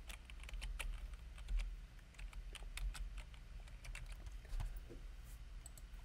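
Quick, light clicks of a computer keyboard typed one-handed at a cluttered desk, scattered in short irregular bursts, close and fairly quiet over a low background hum.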